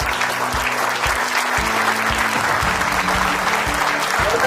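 An audience gives a standing ovation at a corporate team event, with dense, loud, sustained clapping filling the hall and a low murmur of voices beneath.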